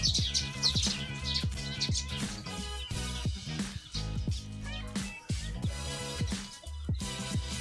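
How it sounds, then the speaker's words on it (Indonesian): Munia birds making a commotion in a tree in Borneo, a dense flurry of overlapping sharp chirps and twitters, moderately loud and near, continuing without pause. "Jadi di pohon ini ada ribut-ribut burung emprit."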